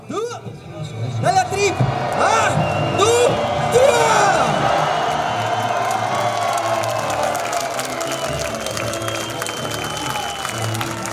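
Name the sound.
crowd cheering a diabolo performer after the show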